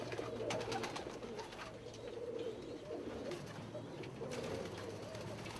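Archangel pigeons, including a blue bird with white bars, coo in a group. Low overlapping coos carry a continuous murmur at moderate volume, with occasional higher chirps and a steady background hum.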